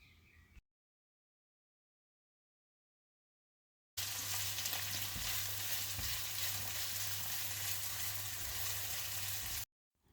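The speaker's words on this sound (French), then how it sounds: "Dans ma poêle, je mets un peu d'huile d'olive. Je laisse le temps que ça soit bien chaud. Par la suite, j'ajoute les oignons." After a stretch of silence, onions hiss and crackle steadily in hot olive oil in a frying pan, a loud continuous sizzle lasting several seconds before it cuts off.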